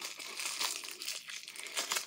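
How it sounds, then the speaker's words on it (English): Bubble wrap from a makeup package crinkles close up in quick, irregular rustling bursts, fairly quiet and with no voices. "there's a lot of bubble wrap here"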